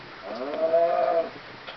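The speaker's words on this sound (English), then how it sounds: "Listen to that cow." A Minecraft cow gives one drawn-out, wavering moo, loud and close, with no other sounds around it.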